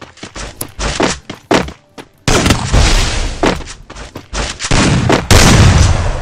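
Repeated gunshots in the mobile shooter game Lone Wolf 2, including a Desert Eagle pistol, sounding as sharp, loud close-range cracks. Several come in uneven bursts, then denser overlapping fire and booms toward the end.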